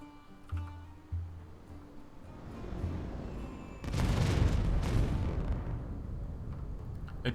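Strategic bombardment strikes a city in the strategy game Humankind: a couple of soft thuds early, then a loud rumbling barrage of explosions swells in midway and keeps booming and crackling to the end.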